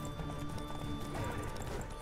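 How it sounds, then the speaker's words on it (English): Horse hooves clip-clop in a fast, dense rhythm in The Witcher 3: Wild Hunt, with a brief whinny amid loud, continuous game noise. "I'm probably gonna get chased by these dudes on the horses."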